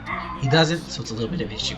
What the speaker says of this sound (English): I apologize for the dogs barking who don't shut the fuck up